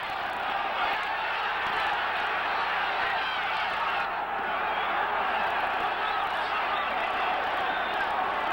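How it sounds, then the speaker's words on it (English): A crowd at a boxing match roars between rounds in a sustained, loud wash of cheering and shouting. It swells and holds throughout, with a faint voice partly buried beneath it. "Listen to that crowd."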